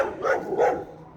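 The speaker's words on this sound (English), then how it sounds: "That's the neighbor's dog right here." A neighbor's dog gives two sharp, close barks in quick succession, then falls quiet.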